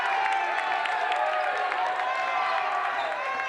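A basketball arena crowd cheers and applauds, a continuous roar of voices with scattered clapping filling the whole stretch, and a commentator talking over it.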